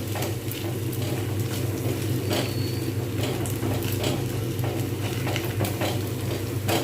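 Steady frying sizzle fills the clip, a dense crackling hiss with occasional sharper pops and clinks as a tempering is fried for tadka dal; close and continuous with no talking.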